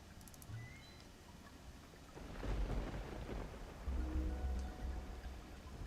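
In the video game Sword & Sworcery, a thunderstorm brings a low rolling rumble of thunder about halfway through and a second swell near the end, over a constant bed of falling rain and a few faint chimes early on.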